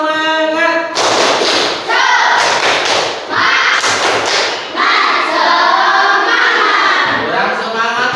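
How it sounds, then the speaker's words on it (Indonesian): A classroom of schoolchildren does a rhythmic spirit clap, loud patterned bursts of hand claps and thumps in unison, mixed with their shouted chanting voices. "Tepuk semangat."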